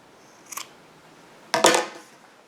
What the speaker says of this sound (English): And then just trim the ends of the yarn.